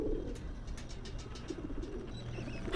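A pigeon coos softly in the video game Whateverland, low burbling calls over a steady ambient background with faint higher chirps, no speech.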